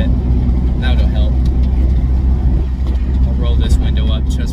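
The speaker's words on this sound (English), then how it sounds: "sorry if the wind noise is a little bit much" Steady, loud wind rush inside a Honda Del Sol with the rear window rolled down, a constant low roar and road rumble that fills the cabin throughout while a person talks over it.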